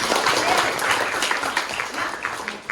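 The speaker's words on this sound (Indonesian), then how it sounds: "Tepuk tangan buat Faiz" Students in a classroom clap for a classmate, a busy burst of close applause that stays fairly even throughout, with some voices mixed in.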